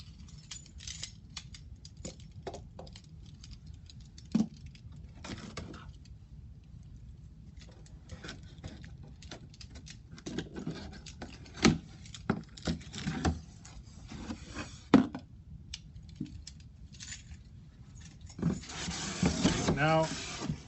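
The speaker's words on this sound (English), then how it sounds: "we'll open up the box" Cardboard packaging of a Dell OptiPlex 7000 small form factor computer is opened by hand, giving quiet scattered scraping, rubbing and crinkling sounds with a few sharper snaps, close by and without talk.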